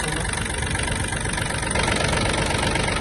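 A Yanmar AF-24 Japanese mini tractor's engine idles steadily close by, a dense, even diesel rumble with a faint knocking texture throughout, no voices heard.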